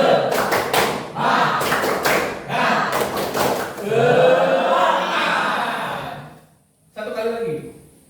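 A classroom of students claps the rhythmic 'tepuk semangat' cheer, bursts of sharp, close claps in quick patterned sets, mixed with a teacher's voice and children's chanting.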